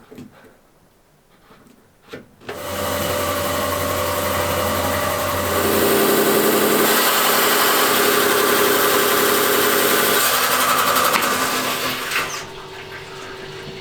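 Rock saw cutting through a Mexican Coyamito agate with aragonite crystal sprays, a loud steady whining grind that spins up and holds for about ten seconds before easing off, close with no talk.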